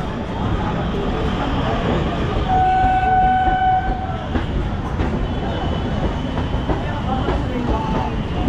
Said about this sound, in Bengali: ট্রেন এখন এসে ঢুকছে দমদম জংশনে